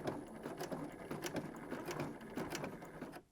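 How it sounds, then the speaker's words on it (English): A sewing machine straight stitches a fabric collar, running as a quiet, rapid, even whirring and ticking close to the microphone. "you're just using a regular straight stitch, don't forget to back stitch"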